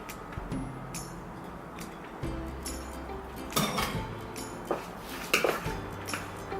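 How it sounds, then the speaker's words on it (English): Grated carrots are folded into a carrot cake cookie mixture in a bowl, giving soft scraping and clinking of a utensil against the bowl with a few sharper knocks, close and moderately quiet, with no talking. "I'm gonna be adding in the carrots into the mixture and folding it in nice and gently"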